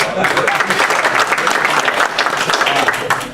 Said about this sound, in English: we all owe him a round of applause